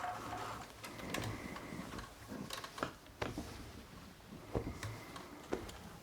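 A sewing machine stitches a patchwork cushion seam, giving a quiet, fairly close mechanical chatter with scattered ticks and clicks and no voices.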